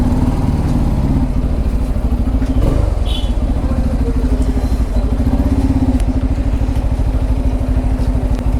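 A Bajaj Pulsar N250 motorcycle idles loud and close outside a closed service center, its steady engine thrum running unbroken with light mechanical clatter throughout.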